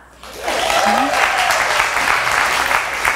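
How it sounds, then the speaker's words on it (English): A church congregation at a Seaside CSL Sunday service breaks into warm, sustained clapping right after a brief voice, the applause staying even and full to the end. "Let's clap."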